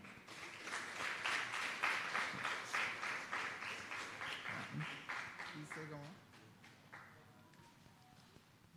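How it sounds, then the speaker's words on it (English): An indoor audience claps for youth mayors at a local government ceremony, a fairly close burst of many hands that gradually thins out into scattered claps before fading. "Clap them for me."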